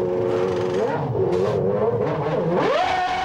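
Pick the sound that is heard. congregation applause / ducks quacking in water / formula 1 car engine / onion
formula 1 car engine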